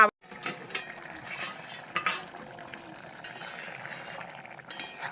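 Pangas fish and young taro curry simmering in a covered pan, a soft bubbling sizzle broken by scattered clinks of a utensil against the metal, quiet and close with no voices.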